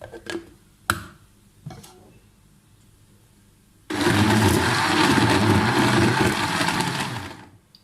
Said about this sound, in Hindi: इसको मैं अभी ब्लेंड कर लेती हूँ।